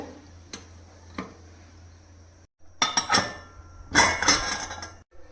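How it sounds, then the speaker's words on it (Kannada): A pressure cooker lid is fitted and closed while cooking chicken sambar, giving a few sharp metallic clicks and clinks, then a louder cluster of clattering metal knocks near the end over a low steady hum. "ಇವಾಗ ಕುಕ್ಕರ್ ಕ್ಯಾಪ್ನ ಮುಚ್ತಾ ಇದ್ದೀನಿ"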